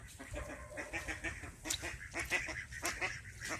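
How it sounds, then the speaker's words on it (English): A flock of ducks quacks and honks busily nearby, a steady overlapping chatter of many birds outdoors. "here comes the ducks"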